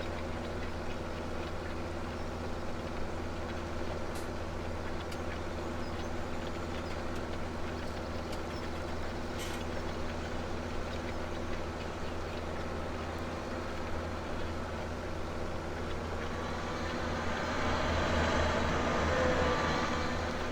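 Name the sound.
Cat grader engine running in Farming Simulator 17 video game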